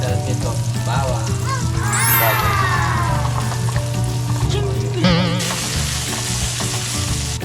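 Onion and garlic frying loudly in hot oil in a pan for chicken-feet adobo, a dense continuous sizzle with stirring scrapes and some faint background voices.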